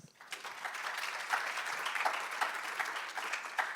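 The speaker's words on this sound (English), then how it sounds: "Round of applause, please." Steady audience applause for a women's sports panel at a conference, a dense wash of many hands clapping at moderate distance with no voices over it.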